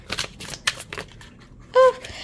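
Tarot cards are shuffled by hand in a series of quick papery riffles and slaps, close up, followed by a brief tonal beep near the end.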